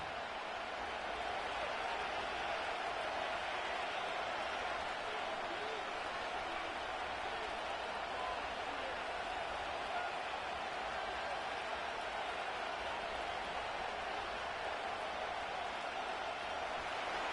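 Stadium crowd noise in an EA Sports football video game, a steady, dense roar of cheering that holds at an even level for the full length with no clear peaks.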